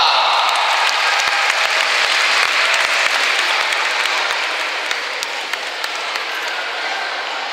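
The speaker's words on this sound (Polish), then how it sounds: "Wielkie brawa!" An audience gives a jazz group warm applause at a children's charity concert, a dense, loud wash of clapping that holds steady and then eases slightly toward the end.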